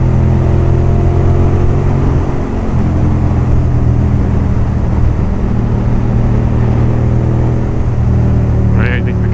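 A Ducati Monster S4 motorcycle runs continuously with a loud, throaty engine drone and strong low rumble. A voice talks over the engine throughout.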